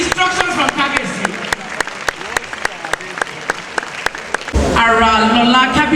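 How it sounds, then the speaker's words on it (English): An audience at African Fashion Week claps steadily, the sound close and dense. Near the end the clapping swells into a louder burst of applause mixed with cheering. "A very resounding round of applause with instructions from Kabesi."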